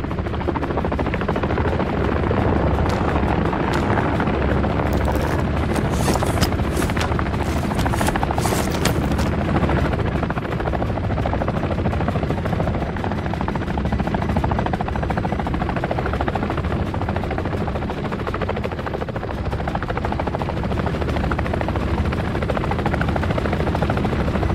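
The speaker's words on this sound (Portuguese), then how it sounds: "O helicóptero de ataque não dá trégua." Attack helicopter in Call of Duty Modern Warfare III, a loud, steady rotor roar and whine that persists throughout with little change, briefly joined by sharper bursts in the middle.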